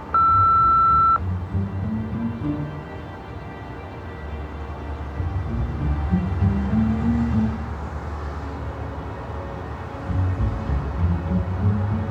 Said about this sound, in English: Anyone else is welcome to leave a message after the beep.